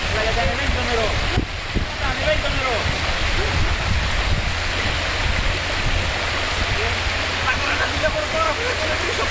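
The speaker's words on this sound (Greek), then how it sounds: "εδώ αμολάνε από το φράγμα τα νερά κάθε τόσο" Water released from a dam near Ziria, Greece, rushing in a loud continuous roar close by, with faint voices partly under it.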